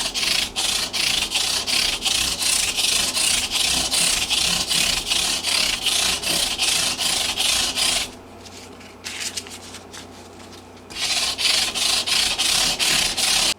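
Guitar frets on a 1966 Gibson LG-1 being scrubbed with a Scotch-Brite or 3M maroon pad, a loud, rapid, rhythmic abrasive rasping that stops briefly midway, then resumes.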